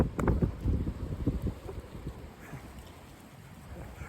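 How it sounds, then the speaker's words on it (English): Outdoor wind buffeting a microphone, heavy low rumbling gusts strongest at the start then easing into a softer steady rush. "That wind, man."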